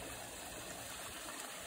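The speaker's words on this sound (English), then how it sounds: "wanted to do an update on the stream and the waterfall." Steady flowing water from a koi and goldfish pond's stream and waterfall, a soft continuous rush with no voices.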